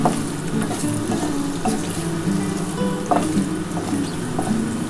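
Paneer cubes frying briefly in a pan for palak paneer give a loud, continuous sizzle, with occasional soft stirring knocks breaking through.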